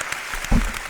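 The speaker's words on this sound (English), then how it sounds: "Round of applause one time, man." A short burst of applause in a podcast studio, a brief round of clapping from a small group lasting about a second.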